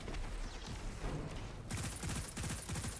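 Rapid automatic gunfire in the video game Destiny's Trials of Osiris, dense close bursts of shots that grow into distinct fast rhythmic volleys in the second half, with no talking.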